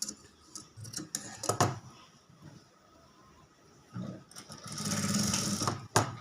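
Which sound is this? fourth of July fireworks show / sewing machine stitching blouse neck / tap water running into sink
sewing machine stitching blouse neck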